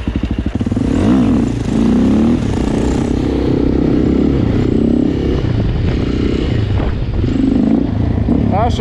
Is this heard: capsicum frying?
no